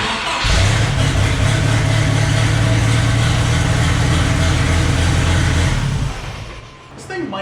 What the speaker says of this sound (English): I'm curious if welding all those holes shut somehow changed the exhaust sound of this.